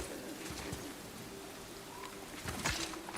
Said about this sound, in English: you can hear the birds, Odin's birds